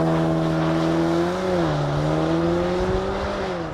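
A Cupra Formentor drives along in comfort mode, its engine giving a steady close hum that rises and dips slightly in pitch, loud and continuous without speech.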